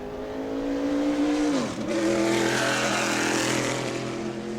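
Tour Type Modified race car at New Smyrna Speedway during evening qualifying, engine roaring loudly with a steady high-pitched drone that dips briefly as it lifts off for a corner, then climbs back to full throttle.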